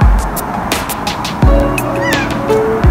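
A cat found in a warehouse in Korea meows several times close by while being fed after work, giving loud repeated meows with some rising tones over a steady, noisy indoor background.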